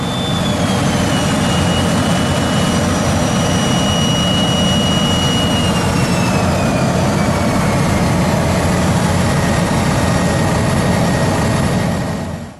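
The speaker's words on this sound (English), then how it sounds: "One of the things you have to do is you have to do an engine check to make sure that in fact it's still working." F-16 Block 50 jet engine running in an engine check, a loud continuous roar with a steady high whine that slowly drifts in pitch, unbroken for about twelve seconds before easing at the end.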